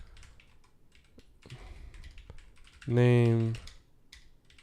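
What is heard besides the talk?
typing on a computer keyboard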